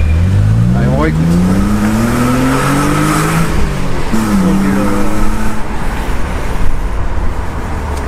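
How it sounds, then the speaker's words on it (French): Renault Avantime with a naturally aspirated V6 climbs through the revs in a loud, close pull, then drops and climbs again amid road and traffic noise. "Le plaisir d'entendre un V6 Atmo dans les tours."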